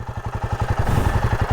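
A Royal Enfield Himalayan 450 motorcycle engine idles up close, a steady, quick thumping pulse with a slight mechanical clatter, loud and even across the short stretch.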